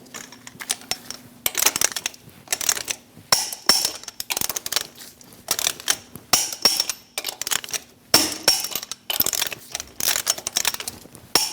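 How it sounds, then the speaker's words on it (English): Lug nuts on a 2003-2025 Chevrolet Express 2500 wheel are torqued with a 22mm socket, giving sharp, irregular metallic clicks and ratchet clatter up close, in bursts with short pauses. "Using a 22mm socket, torque the lug nuts to 140 foot-pounds in a star pattern."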